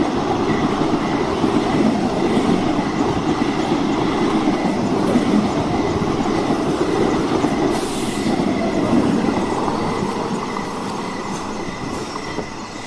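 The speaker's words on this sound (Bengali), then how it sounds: "ট্রেন এসে থামে এবং আমার প্যাসেঞ্জার ট্রেন থেকে নেমে প্ল্যাটফর্ম থেকে বাইরে বেরিয়ে আসে" A passenger train pulls into a station platform with a steady, loud rumble of wheels and carriages and a faint metallic squeal, easing slightly toward the end, with no voices.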